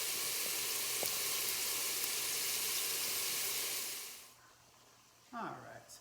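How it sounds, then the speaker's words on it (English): Garlic, celery and onion sauté in an Instant Pot with a steady, close sizzle and hiss that fills most of the stretch, then cuts off abruptly into quiet, followed by a brief clatter near the end. "now that we have the garlic, celery, and onion sauteing in the Instapot"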